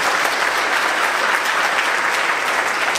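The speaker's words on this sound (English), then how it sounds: "A round of applause for all of our community and community support." Dense, steady applause from a concert audience at a choral performance in Wellesley, filling the space evenly from start to finish with no voices standing out.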